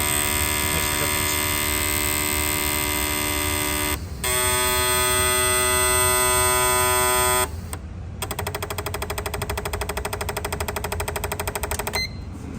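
A modified fuel injector cleaning machine fitted with a Bosch-type pump at raised fuel pressure runs steadily, giving a loud continuous electric hum and buzz that stops briefly twice and then resumes with a faster pulsing rattle.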